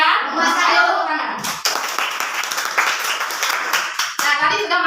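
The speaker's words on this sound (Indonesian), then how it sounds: "Ayo tepuk tangan." Students clapping hands together in a classroom after a group presentation, a brisk patter of many small hands that starts abruptly and runs steadily, with a teacher's voice before and after.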